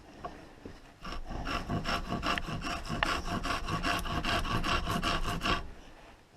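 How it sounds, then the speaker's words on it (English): An old traditional hand rasp files back a wooden twine cutter handle, giving a steady run of close, rhythmic scraping strokes that continue for several seconds with no talking. "I'm going to try the old traditional rasp that is probably older than me"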